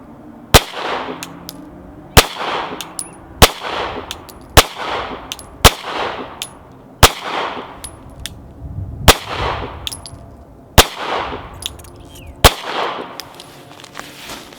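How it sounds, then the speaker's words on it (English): Sig P365 Gen 2 pistol fired from an outdoor range, drawn from an Insider Overlord holster: about nine sharp, loud single shots spaced roughly a second or more apart, each with a short ringing tail. "I'm gonna fire the first 10 rounds through it right now"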